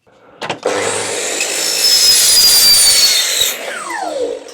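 A power saw cuts through wood for about three seconds, a loud steady rasping whine that starts abruptly after a short spin-up and winds down at the end, with no talk over it.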